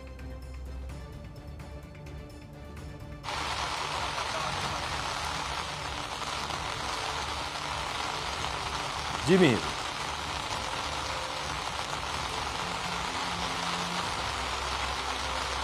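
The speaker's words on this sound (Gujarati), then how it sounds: "તે અત્યારે હાલ વરસાદ હવે વરસી રહ્યો છે." Steady rain pours in Ahmedabad, a constant hiss of drops on surfaces in the background while a reporter speaks, with a brief vehicle sound passing midway.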